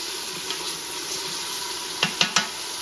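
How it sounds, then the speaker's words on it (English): Bean soup ingredients sauté in a pot with a steady, even sizzle, then three quick clinks of a utensil against the pot near the end. "Get it all sauteed out"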